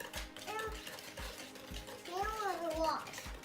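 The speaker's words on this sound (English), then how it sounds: "All right, now Daddy will mix." A spoon knocks rhythmically against a bowl while homemade waffle cone batter is mixed, a steady series of soft clunks under an adult and someone talking.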